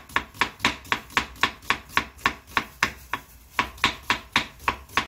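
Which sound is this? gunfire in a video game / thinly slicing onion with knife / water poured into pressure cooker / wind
thinly slicing onion with knife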